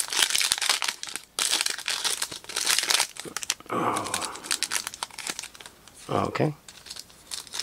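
Foil wrapper of a retail basketball trading card pack crinkling and tearing open in bursts close to the microphone, with a person talking over the rustling.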